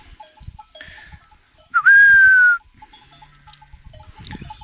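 A sheep gives one loud, sustained bleat from a grazing flock on highland pasture, standing out clearly over quieter scattered animal sounds, faint bell-like clinks and low shuffling around it.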